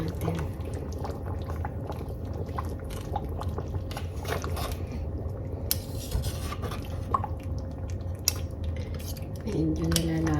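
Beef kaldereta stirred in a pot, with a spoon clinking and scraping against the metal over a steady simmering bubble, and brief talk in between.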